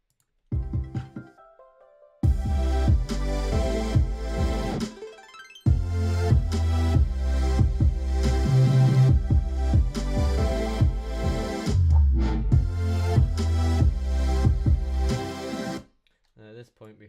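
A harp-like arpeggiated synth from Splice plays with a deep sub drop and layered electronic music, loud and full, in a brief opening followed by a long sustained section that ends abruptly.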